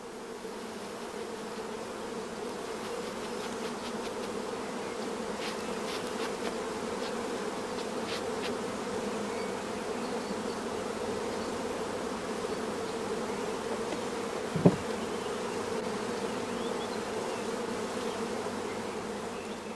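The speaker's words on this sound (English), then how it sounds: "all the young bees run into the darkness of the swarm box" Honey bees drone in a dense, continuous buzz as they run into a dark swarm box, a steady close hum throughout with one brief knock near the end.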